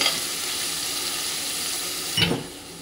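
Chopped onions fry in a pan with a steady, close sizzle that runs throughout, broken near the end by a brief scrape or stir.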